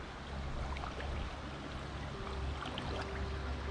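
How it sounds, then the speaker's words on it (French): A small waterfall on the shallow, clear Ain river makes a steady broadband rush of flowing water, constant and moderately distant with no voices. "Et au fond, la petite cascade."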